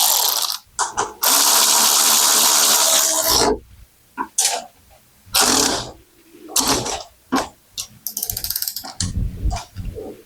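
A combined drill-and-tap bit working through thin metal on a 1976 Jeep CJ-5 frame, a long steady whining bore followed by short, loud intermittent bursts of cutting with gaps between, close up.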